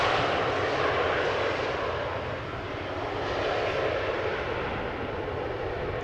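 An Embraer airliner arriving at Amsterdam Schiphol Airport makes a loud, steady roar of engine noise that swells slightly and holds throughout, with no voices.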